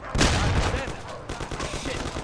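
A sharp burst of gunfire in the video game Mafia: The City of Lost Heaven opens the clip, followed by a run of rapid shots and muffled blasts, loud and close.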